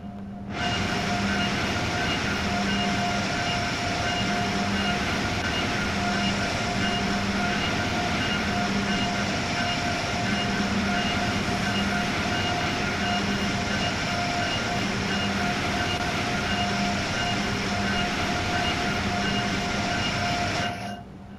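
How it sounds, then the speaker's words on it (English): A steady rumble of a New Jersey Transit commuter train pulling away in the video game Train Sim World 5, continuous and loud throughout, with a droning engine hum and faint rhythmic wheel noise. "New Jersey Transit train about to leave."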